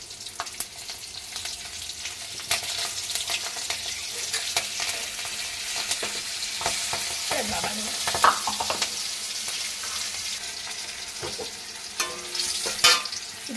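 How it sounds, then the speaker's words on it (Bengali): Radhuni seeds and slit green chillies sizzle in hot oil for a tilapia curry with bitter gourd and potato, a loud, steady close-up frying hiss broken by crackles, pops and stirring scrapes, with no talking. "রাঁধুনি ফোড়ন দেব আর দেবো একটু কাঁচা লঙ্কা চেরা"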